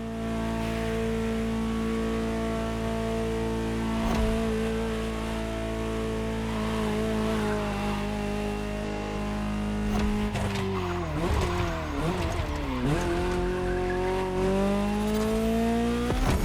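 Ferrari GTO, the Gran Turismo Omologato, in a video game: a loud engine note holds steady, then shifts and climbs through gear changes with brief tire squeal toward the end, continuous and close with no talk.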